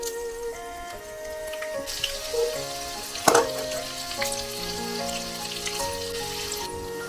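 Spices and crushed garlic cloves sizzle softly in hot oil for an eggplant curry, a steady crackle with a brief clatter midway, under gentle background music.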